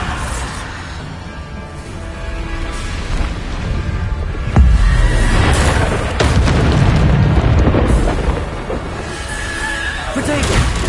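Bombarda blasts in a wizard video game: heavy low booms burst out around the middle and again later, loud and close, layered over dense game noise and a spoken voice.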